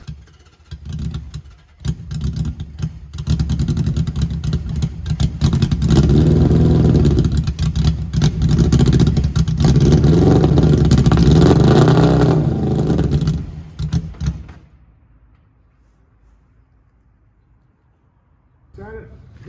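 A home-built fast garden tractor's engine revs hard under throttle while starving for fuel, a loud, close, rough roar that rises and holds for over ten seconds before cutting off to near quiet, with voices over it.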